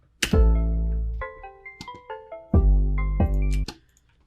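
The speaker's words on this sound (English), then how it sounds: "Now the clap is important because it kind of adds a offbeat to the kick" A short electronic beat: booming kick drums with sustained low bass, sharp clap-like hits between them, and a few bright melodic notes scattered through.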